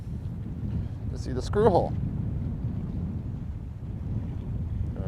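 Nighttime wind on Florida's Space Coast buffets the microphone in a constant low, rumbling roar, with a short burst of a man's speech partway through.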